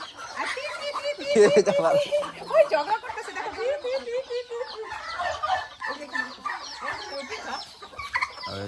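Backyard chickens cluck and squawk close by, a busy run of calls mixed with people talking throughout.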